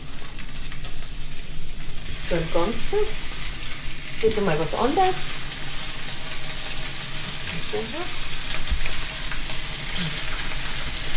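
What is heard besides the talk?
pak choi frying in butter in a pan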